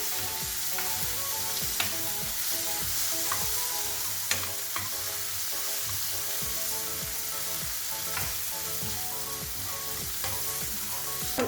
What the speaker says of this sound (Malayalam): നമുക്ക് ഇതിലേക്ക് കട്ട് ചെയ്ത് വെച്ചിരിക്കുന്ന തക്കാളി ഇട്ട് കൊടുക്കാം. നന്നായിട്ടൊന്ന് വഴറ്റിയെടുക്കണം.